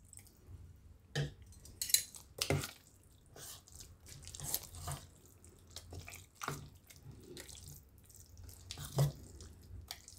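Close, wet splashes and soft clinks come in short bursts as water is added to a thick farali handvo batter with rock salt, with pauses between and no talking.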